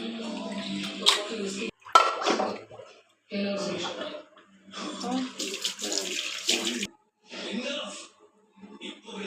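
Mutton being washed in water splashes and sloshes in several separate bursts with short pauses between them, close by and fairly loud, while a person talks over it at times.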